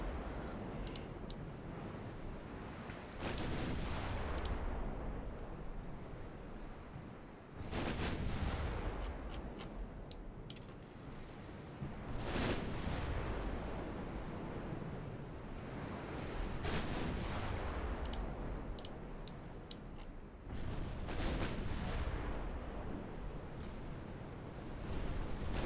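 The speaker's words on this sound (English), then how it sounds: "This is why the Hamilton is busying itself shooting up the transports." A warship's naval guns fire on transports in a video game, with repeated heavy booming salvos every few seconds over a constant dense rumble of battle noise.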